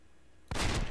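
A sudden loud burst of video game gunfire erupts after half a second of near silence, sharp and close, like a quick volley of shots.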